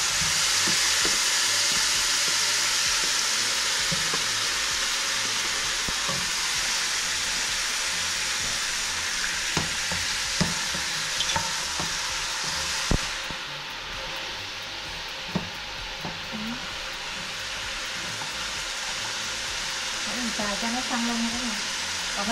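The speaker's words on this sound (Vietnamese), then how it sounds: "Mình xào xăng lên ha." Marinated pork ribs stir-fried in a pan for a simple Vietnamese home meal, giving a steady close sizzle and hiss with occasional clinks and scrapes of stirring, and a voice talking over it in places.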